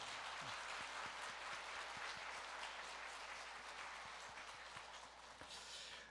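A church congregation at a Korean mission church's Lenten Wednesday revival service applauds faintly and from a distance, a soft, even patter of clapping with a few sharper individual claps standing out.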